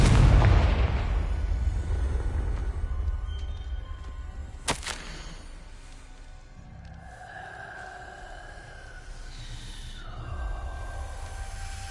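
A Confringo blasting spell goes off in Hogwarts Legacy with a loud booming explosion at the start, followed by a long rumbling decay, a sharp crack near the middle and softer magical shimmering tones toward the end.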